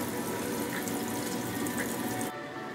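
Tap water runs steadily into a sink with a constant hiss and splash, fairly close, then abruptly softens near the end as the flow is cut back.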